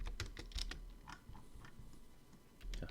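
Computer keyboard keys pressed while working in 3D modelling software on a deck build: a quick cluster of crisp clicks, then a few scattered taps, and another burst at the end, close and fairly quiet with no talk.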